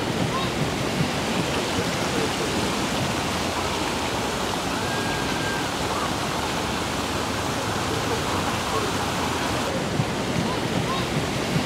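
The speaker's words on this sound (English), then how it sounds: "This fountain here is called as Three Rivers Fountain, which is in Victoria Square." The Three Rivers Fountain in Victoria Square, Adelaide, flows steadily, a loud, dense rush of splashing water that stays unbroken throughout, like a nearby waterfall.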